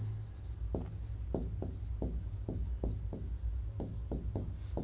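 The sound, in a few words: writing with a pen on paper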